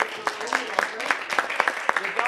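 Scattered clapping from a small school audience at a 1st–8th grade spelling bee, irregular hand claps mixed with voices and chatter close by.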